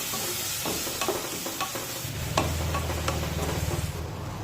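Soaked matki dal sizzles in a hot pan with turmeric while a spoon stirs and scrapes it, the frying growing louder and crackling toward the end, close and with no talk.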